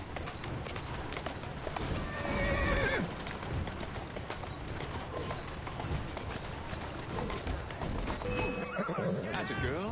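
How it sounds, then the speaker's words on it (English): Horse in Assassin's Creed Syndicate neighing and whinnying with clip-clopping hooves, plus birds cooing nearby; someone talks to the horse at moments between the sounds. "Who's a good horse?"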